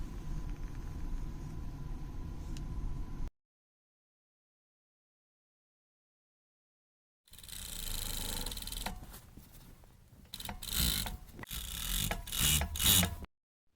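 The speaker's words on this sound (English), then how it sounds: "then we're gonna serge it on the serger" A serger overlock machine finishes a shirt seam with a close mechanical whirring burst, then a few seconds of silence, then another uneven run of rumbling stitching with clicks and handling knocks.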